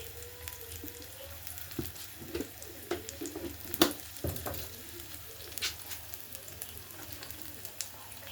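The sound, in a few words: prawns and chili powder frying in oil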